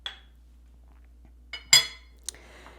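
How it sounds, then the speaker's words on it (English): Garlic cloves tossed into a pot on top of beef give a few bright clinking knocks against the metal, one louder strike in the middle and lighter taps around it, close and clear in a quiet kitchen. "So we're just going to throw these cloves on top of our beef."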